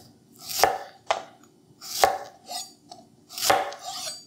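A Henckels chef's knife chops food on a cutting board in a handful of crisp, close, evenly spaced strikes, each with a short scraping tail, in an otherwise quiet room.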